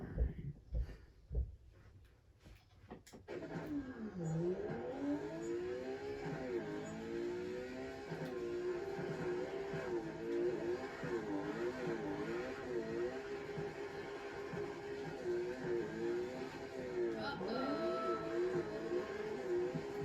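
Laguna Seca Blue BMW E46 engine in the CarX Drift Racing game revving steadily after a few brief clicks, its note rising and falling continuously as the car drives on the track.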